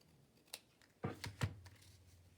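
Scissors trim paper for a junk journal pocket: a light tap followed by two or three crisp, close snips in quick succession, then quiet.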